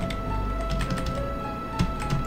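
Computer keyboard typing during play of a Final Fantasy VII mod, irregular clacky keystrokes and taps in short clusters over a steady game hum, close and moderately loud.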